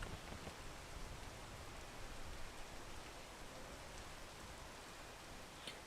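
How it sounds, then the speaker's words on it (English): Rain falls steadily in the video game PEAK, a soft, dense, even hiss of drops with no breaks, faint and continuous without voices. "Now it's raining again."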